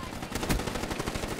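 Continuous rapid automatic weapon fire in the shooter video game Black Ops 3, dense and loud throughout with a heavier blast in the middle, mixed with game noise.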